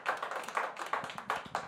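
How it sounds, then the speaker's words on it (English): Audience at a comedy show giving a quick round of applause, light, fairly faint clapping from a partial crowd, brief and uneven. "quick round of applause."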